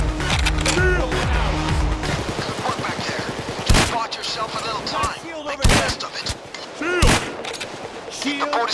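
Rapid video game gunfire during a heist shootout: bursts of automatic shots, then several sharp, loud single cracks spaced apart, with game effects and a voice underneath.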